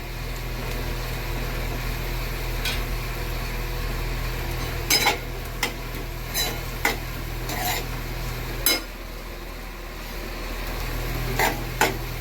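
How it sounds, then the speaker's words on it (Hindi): Egg bhurji with coriander cooks in a pan on a home stove, with a steady low background hum broken by sporadic sharp clicks and scrapes of stirring, and no talking. "ये अंडा भुर्जी जस्ट बन ही रही है।"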